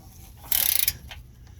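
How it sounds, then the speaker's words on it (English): A wrench turns a tight bolt on a front control arm of a 2012-2018 Nissan Altima: one quick burst of rapid ratcheting clicks lasting under half a second, close by, then only faint mechanical handling. "my wrench up there is turning"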